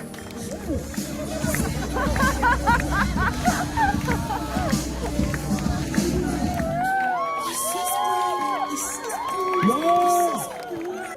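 Wedding guests in a hall cheer, whoop and clap as the bride and groom enter, a loud crowd roar with shouting voices, then bright high whistles or squeals over fading chatter.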